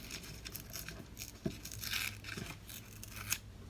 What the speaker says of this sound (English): And then rip this side off.